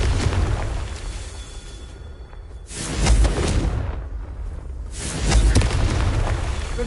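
Two booming blasts from the Confringo fire spell in Hogwarts Legacy, a few seconds apart, each a broad loud burst that fades into a rumbling tail.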